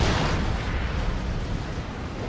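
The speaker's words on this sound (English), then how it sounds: "Did the Venom Cannon Carnifex just miss that shot at the end there?" A Tyranid Carnifex fires its Venom Cannon in a Dawn of War 2 match between Imperial Guard and Tyranids, a muffled, rumbling blast that sits in a dense, steady wash of battle noise without a sharp peak.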